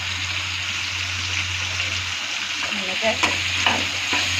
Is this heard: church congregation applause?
no